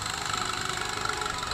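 A trawler boat's engine runs steadily on a river trip, a close, even, droning hum with a faint knocking pulse and no break.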